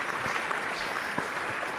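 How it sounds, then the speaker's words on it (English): Clap sound effect played back from a computer, coming through as a steady wash of noisy, broadband patter for under two seconds with small sharp spikes, fairly faint and with no talking. "It's supposed to be a full clap."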